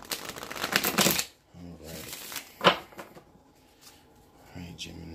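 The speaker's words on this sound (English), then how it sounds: "So just one more good shuffle, Gemini." Tarot cards are shuffled in several quick riffling bursts, crisp and close, alternating with a person talking quietly between the shuffles.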